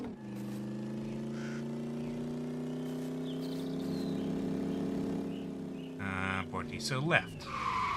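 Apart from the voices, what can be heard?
truck driving and accelerating in a video game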